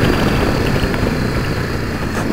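Yamaha Drag Star 650 motorcycle engine running while ridden, a loud steady low drone with wind rush, close and continuous.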